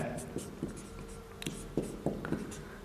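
Chalk taps and scratches in short irregular strokes as math is written on a board, fairly faint and close, with a voice speaking now and then.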